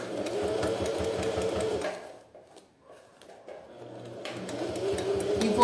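A domestic sewing machine running a topstitch seam along a fold of fabric for a clear-visor beach toiletry bag, humming steadily up close, pausing briefly midway, then resuming its rapid stitching.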